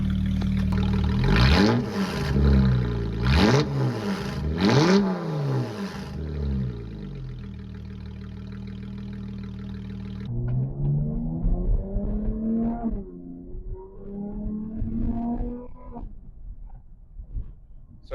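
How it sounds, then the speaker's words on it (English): A V6 car fitted with a Solo Performance exhaust revs several times in sharp rising-and-falling bursts, then settles to a steady idle after a cold start, loud and close with no talk. "Okay, I'll give you guys some revs."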